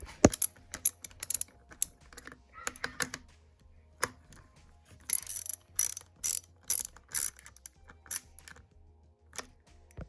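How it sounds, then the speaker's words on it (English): A hand ratchet clicks in short bursts of rapid ticks, near and crisp, as bolts are tightened into plastic on a Jonsered/Husqvarna string trimmer, with pauses between bursts. "Very simply, just tighten up your bolts."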